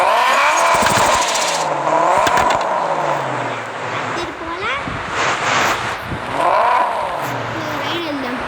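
A modified Honda Civic EK9 fitted with a 4.5-litre V8 revs up and down in loud, close rising and falling sweeps, with a voice talking over the engine.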